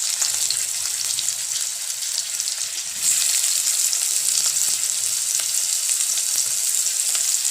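Chopped onions frying in hot oil with cumin seeds and bay leaf for a cauliflower roast, a steady bright sizzle throughout that grows a little louder partway, with faint stirring scrapes underneath and no talking.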